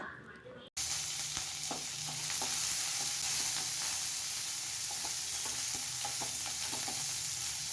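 Ginger and curry leaves crackle and sizzle in hot oil, a dense continuous frying hiss that starts abruptly and continues with scattered pops.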